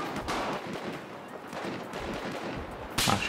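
Dense gunfire in Battlefield 4 on PS4, a fast stream of rifle shots with a hard, loud burst near the end, continuous throughout without talk.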